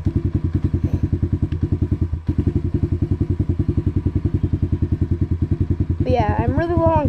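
A motorcycle that is low on gas rides around on grass, its engine throbbing in a steady, rapid pulse close by. A voice joins near the end.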